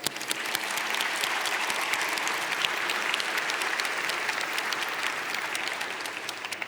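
A crowd at an investor show on a main stage applauds steadily, a thick continuous roar of clapping from many hands that holds at an even level throughout.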